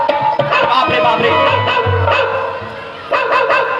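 A dog barks and yips in short repeated bursts, loud and close, with a brief whimpering stretch in the middle and renewed barking at the end.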